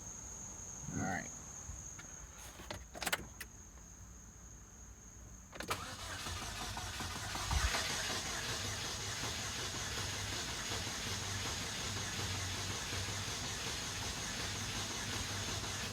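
A 2008 Chevy Cobalt engine cranks over and catches, then settles into a steady running drone, with insects chirping faintly in the background.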